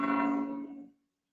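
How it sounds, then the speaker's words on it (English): A church bell in Orgiva gives one close resonant strike that rings with a steady hum and fades out within about a second into silence. "let the bells finish ringing"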